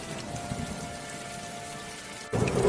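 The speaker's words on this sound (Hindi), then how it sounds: "देखते देखते बारिश और भी तेज होती गई।" Heavy rain pours in a village, a steady hiss that suddenly grows louder and rougher near the end as the downpour intensifies.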